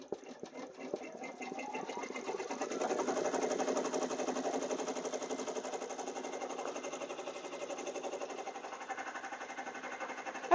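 Embroidery machine stitching the final stitch on a towel, a steady, rapid mechanical hum and needle rattle that runs evenly for about ten seconds, close and alone without talk.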